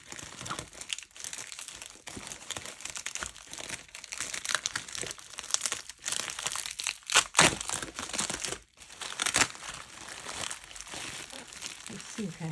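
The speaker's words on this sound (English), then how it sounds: "I think I have to open up the plastic." Plastic packaging crinkles and crackles up close during an unboxing, with dense, continuous rustling that swells in several louder bursts across about twelve seconds.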